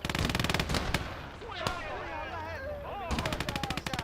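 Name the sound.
sniper gunfire in a video game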